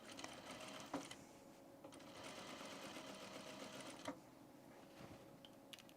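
A sewing machine runs a basting stitch on men's pants, a fairly quiet, steady mechanical whir and rapid needle chatter with a few clicks and brief pauses, heard close without any talking.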